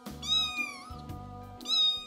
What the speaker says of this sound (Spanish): Vamos, gatito, baja de ahí.